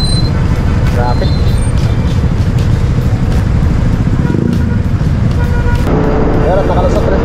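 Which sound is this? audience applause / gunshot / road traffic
road traffic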